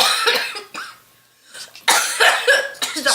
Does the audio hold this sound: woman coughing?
yes